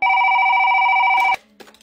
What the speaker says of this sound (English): How is it ringing? It's not even plugged in.